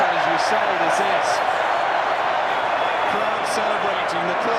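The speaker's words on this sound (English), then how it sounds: "Crowd celebrating, the clock has gone" Stadium crowd roaring after England beat New Zealand at rugby in a 2012 autumn international, a loud, continuous wall of cheering with bursts of applause, a commentator's voice speaking over it.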